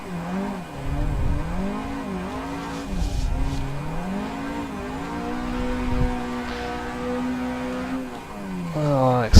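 A car drifting in the Assetto Corsa racing game, its engine note rising and falling through long slides with sustained tyre squeal, while someone talks over it throughout.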